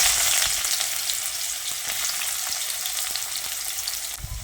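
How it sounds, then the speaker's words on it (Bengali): Chopped onions fry in hot mustard oil in a wok, giving a loud, steady, close sizzle with faint crackles and light stirring clicks throughout. "তেল ভালোভাবে গরম হয়ে এলে এবার আমি এখানে দিয়ে দিচ্ছি কুচিয়ে নেওয়া পেঁয়াজগুলো।"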